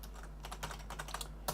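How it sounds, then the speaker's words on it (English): Keys clatter on a computer keyboard in quick, uneven taps, faint and close, over a low steady hum, with one louder keystroke near the end. "I am now typing in capital letters"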